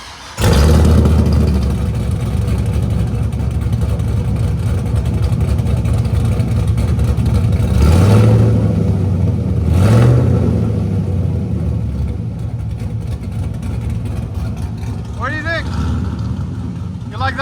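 Car engine revving loud and close through a Dynomax Race Bullet 24250 muffler, about 9 inches long, with a steady heavy rumble and two sharp throttle blips rising in pitch, then settling back to idle, voices talking over it.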